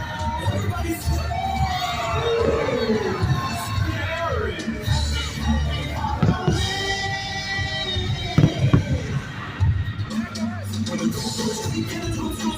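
Halloween fireworks at Disneyland crack and boom through a dense, cheering crowd with children shouting, several louder bursts near the end, while festive music and chatter fill the air.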